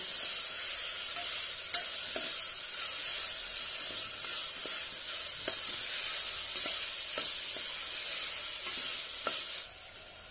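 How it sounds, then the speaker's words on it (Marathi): Rajma (kidney beans) sauté in a hot pan for rajma pulao, with a continuous bright sizzle and scattered scraping clicks of a spoon stirring, fading slightly at the very end. "मस्तपैकी परतून घेऊया"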